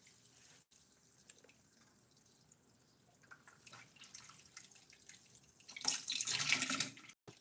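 A bathroom tap runs into a sink, first a thin trickle and light splashes, then a louder gush of water for a couple of seconds before it shuts off, close by in a quiet room.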